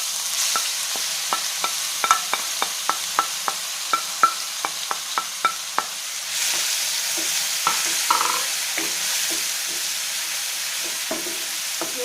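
Crushed masala sautéing in oil for prawn roast, steady sizzle under a regular series of sharp spoon taps and scrapes against the pan, the stirring thinning out into softer scrapes later.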